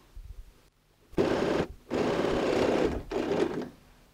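A sewing machine stay-stitches along the fabric edge of a quilted toiletry bag, three close bursts of fast whirring stitches separated by brief pauses, moderately loud with no talk.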